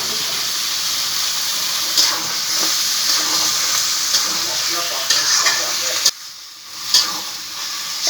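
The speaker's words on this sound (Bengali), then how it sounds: "এখন আমি গোশটা ভালো করে কষিয়ে নেব আস্তে আস্তে করে" Chicken meat is sautéed in a spice paste in a hot pan, with a loud continuous sizzle and repeated stirring scrapes; the hiss drops out briefly near the end before stirring resumes.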